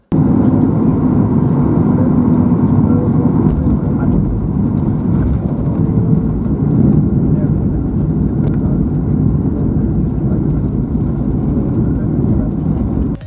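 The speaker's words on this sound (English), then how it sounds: "We landed onto Edinburgh Airport's runway 24 at 8:18 in the evening" Cabin rumble of a Ryanair Boeing 737 MAX 8-200 touching down on runway 24 at Edinburgh Airport in the evening, a steady loud low roar of engines and rolling gear throughout, with faint background voices.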